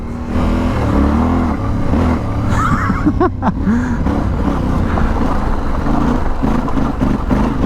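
Up close, a Yamaha Tenere 700 motorcycle with a slip-on exhaust that keeps its reducer accelerates hard, its loud engine note rising and dropping through gear changes, with a brief break in the drone partway through.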